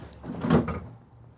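The freezer drawer of a residential Whirlpool fridge in the kitchen of a 2020 Newmar King Aire 4531 motorhome slides open in one smooth, close rumbling pull that fades out, with no talk.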